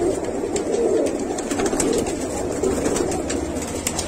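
Large-sized pigeons cooing continuously, soft low throaty calls overlapping close by, with faint background chatter and rustling.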